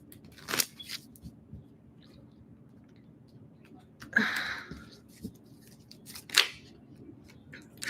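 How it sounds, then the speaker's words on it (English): Tarot cards are shuffled in three short riffling bursts, close and fairly soft, separated by quiet pauses over a low background hum. "One more shuffle."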